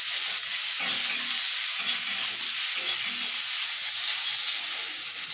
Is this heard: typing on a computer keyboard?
no